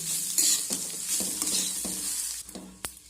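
Potato and egg filling with chaat masala being stirred in a pan, gentle sizzling under rhythmic scrapes and taps of a spatula, several strokes close by.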